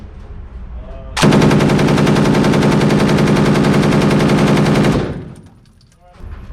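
An FN P90 fired at a Las Vegas shooting range: a single loud, close, sustained full-auto burst of rapid shots lasting nearly four seconds, then quiet range noise.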